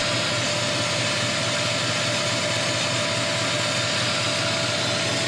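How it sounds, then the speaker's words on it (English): An air compressor runs steadily in a shop alongside electric lights, giving a loud, unbroken mechanical hum and hiss that does not change from start to end. "with the lights and compressor running."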